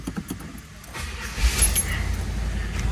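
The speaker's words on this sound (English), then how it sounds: "And that is a cold start." Cold start of a 1975 Pontiac Grandville engine: the starter cranks briefly, then the engine catches and settles into a steady, rumbling idle that continues to the end.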